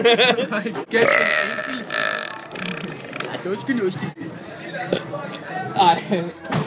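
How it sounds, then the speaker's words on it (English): A long, loud, drawn-out burp, croaking and rumbling continuously for several seconds with rough gurgling changes in pitch. "Burp."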